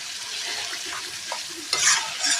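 Spice paste stir-fried in a pan for fried fish roe sizzles steadily up close, with a louder burst of frying and scraping near the end.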